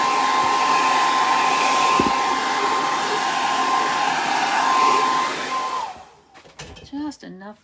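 A heat tool drying acrylic paint on a small ceramic pumpkin blows with a loud, steady whoosh and a faint whine for about six seconds, then cuts off and a voice speaks.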